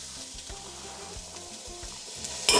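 Minced garlic added to a pan of soft, translucent sautéed onions sizzles steadily at close range, with scraping stir strokes and a sharper burst near the end.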